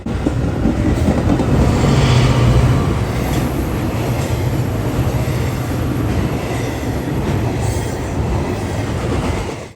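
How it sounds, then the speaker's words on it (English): A passenger train pushed by an F40PH-2 locomotive, number 112, rolls past at Downers Grove, a loud, steady rush of wheels and rail noise with rhythmic clatter and a faint squeal, close by throughout. "This train was pushed by another F40PH-2, 112 again."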